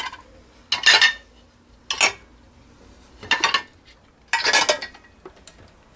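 Clean plates and cutlery from an Electrolux dishwasher clink and clatter in five separate bursts, close by, with quiet gaps between each handling.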